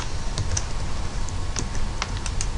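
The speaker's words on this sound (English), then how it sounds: "We're going to begin now by typing in the client details." Office computer keyboard typing as client details are entered into job management software, scattered light keystrokes in irregular bursts over a steady background hum, close and clear, with no talking.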